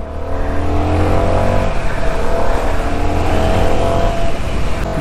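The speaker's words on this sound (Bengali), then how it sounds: "আমি যে বাইকটি রাইড করছি এটা হচ্ছে CF মোটো NK 250" A CF Moto NK250 motorcycle rides along a highway, its loud, sustained engine drone holding steady under rushing wind noise across the whole stretch.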